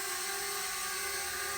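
An Eachine E52 selfie drone lifting off, a steady high-pitched propeller whine with a constant tone, close and fairly loud, with no voices.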